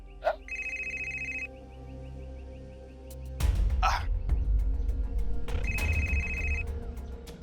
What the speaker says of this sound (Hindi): ये पुष्पा का फोन कर रही है हमें, गजब मुश्किल है।